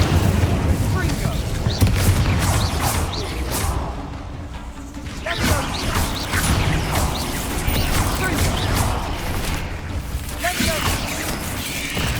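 Incendio fire spell cast during a boss battle in Hogwarts Legacy: loud, repeated whooshing fire bursts and booms layered over a dense, busy combat mix.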